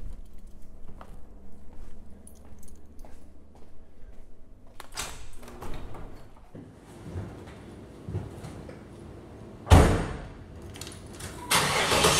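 Chevrolet Camaro in a garage shop, with clunks and handling noises before the engine cranks and catches, then a louder burst and rising engine rumble toward the end.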